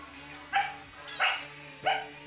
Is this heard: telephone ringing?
no